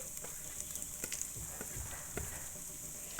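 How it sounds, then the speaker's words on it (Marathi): Asafoetida and turmeric sizzle in hot oil with mustard dal for a sweet-spicy amla pickle, a soft steady frying hiss with light clicks of stirring throughout, no voices. "त्यानंतर आपण त्यामध्ये घालणार आहोत हिंग एक चमचा हिंग आणि एक चमचा हळद"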